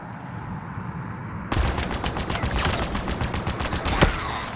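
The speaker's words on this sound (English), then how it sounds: "I'm just going to shoot this brute from distance." Rapid automatic gunfire in Halo Infinite as a brute is shot from a distance. A dense stream of close shots suddenly breaks a quiet backdrop, with one sharper crack near the end.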